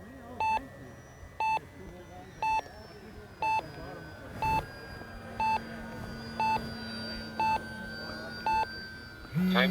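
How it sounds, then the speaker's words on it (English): An RC flight timer beeps in regular short pulses about once a second, ten in a row, clear and bright over a steady background hum, while people talk faintly underneath. "Timer expired."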